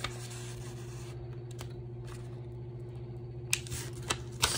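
A sheet of paper is folded by hand for a paper icicle craft, with quiet close crinkles and a few sharp creasing rustles near the end over a low background hum.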